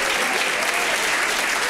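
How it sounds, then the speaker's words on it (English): A comedy and improv show crowd gives a dense, loud round of applause for a performer, a steady wash of clapping throughout with no break. "So give him one more round of applause"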